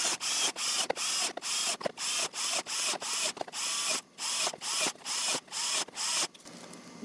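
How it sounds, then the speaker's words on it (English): A cordless drill with a dying battery drills holes in a plastic icing container, whirring in a rapid series of short bursts with brief pauses between them, close and steady, with no talking. "drill a couple holes in this icing container to let water through"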